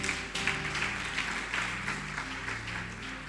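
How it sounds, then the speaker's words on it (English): An audience at a program closing ceremony applauds, a steady wash of clapping that holds for several seconds at moderate loudness over a low background hum. "Please give them a round of applause."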